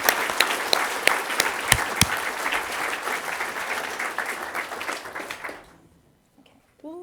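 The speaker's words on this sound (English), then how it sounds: "let's give Bronwyn a round of applause" A room applauds an artist at an open-source arts awards event, with sharp individual claps standing out over steady clapping that fades out after about five seconds, followed by a brief voice.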